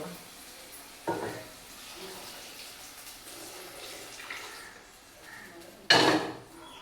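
Moong dal water poured into a pan of kurma, with a sharp burst of sizzling and clatter of a pan and utensil, a second louder splash-and-sizzle near the end, over a low kitchen background.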